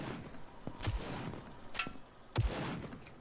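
Gunshots from the first-person shooter Vladik Brutal: a few separate sharp reports spaced over about three seconds, fairly close, over low game ambience with no talk.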